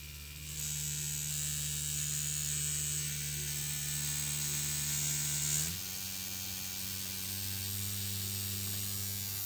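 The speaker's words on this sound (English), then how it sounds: "That's the Extreme Dragonhawk X2. Very, very nice machine. Very quiet. Running at 3 volts now." A Dragonhawk Extreme X2 tattoo machine runs at 3 volts with a steady, quiet electric buzz and faint whine nearby, then shifts abruptly to a slightly different pitch partway through.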